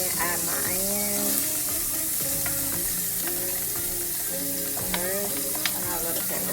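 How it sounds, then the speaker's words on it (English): Onions sauteing with peppers in vegan, soy-free butter, a steady crackling sizzle with a few clicks of stirring, and music playing underneath throughout. "I'm going to add my onions first and saute them up a little."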